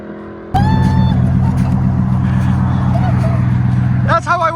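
A 2018 RAM pickup's 5.7L HEMI V8 with an X-pipe and Carven R-Series exhaust fires up and holds a deep, loud, rumbling idle, close by, with people talking over the engine at the end.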